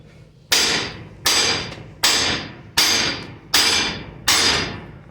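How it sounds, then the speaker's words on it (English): Six heavy hammer blows on mystery steel at a forge, evenly spaced about three-quarters of a second apart, each a loud, sharp metallic strike ringing briefly before the next. "bigger hammer again"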